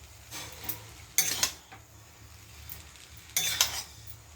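Chowmein stirred in a frying pan, with a few quick bursts of metal spatula scraping and clinking against the pan over a low sizzling background, close and fairly loud.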